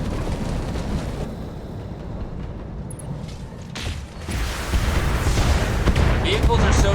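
Turrets fire in a BattleTech mech battle: dense rumbling weapon fire with heavy booms and mechanical clanks. The barrage swells louder toward the end, and a voice speaks over part of it.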